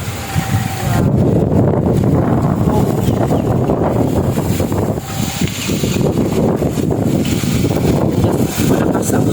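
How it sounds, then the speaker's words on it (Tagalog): Strong wind buffets a rural farm field in Miagao, Iloilo, Philippines, producing loud, continuous roaring gusts that batter the microphone with a harsh, blustery rush for the whole stretch. "malakas ang hangin"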